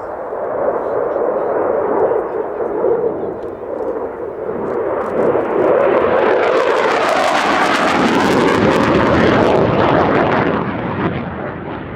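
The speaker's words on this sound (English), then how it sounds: "accelerating in afterburner to around 620 knots for his high-speed pass" A Belgian Air Force F-16 jet makes a high-speed pass in afterburner at about 620 knots at an airshow. The roar builds from a rumble into a loud, tearing surge and then fades slightly.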